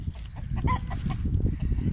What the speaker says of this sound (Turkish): Bak Duru tavuklara bak.